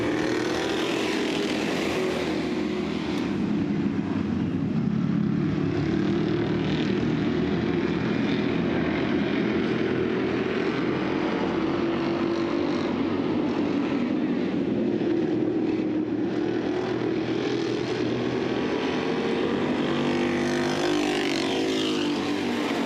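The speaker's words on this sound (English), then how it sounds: "we still got some great racing action here in our Thunderstock division as Lanou and Riom bring them down" Thunderstock dirt-track race cars in a heat race at Southern Ontario Motor Speedway make a continuous, loud engine roar that swells and fades slightly as the pack circles, with no voices.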